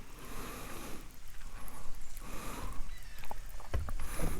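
An outboard motor pushes a loaded fishing boat up a creek against a bit of current, with the outboard trimmed up and extra weight in the back. It gives a steady low drone under rushing water and hull splash, close and continuous.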